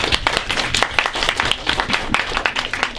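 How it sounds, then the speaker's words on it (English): Audience applause at a student debate on self-driving cars, a loud, steady burst of many hands clapping that carries on for about three seconds. "Give them a round of applause."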